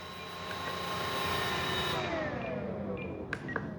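The electric motor and propeller of a Durafly Curtiss P-40 Warhawk 1100mm RC model plane whir close by, the whine sliding downward as the prop spins down with the throttle cut on.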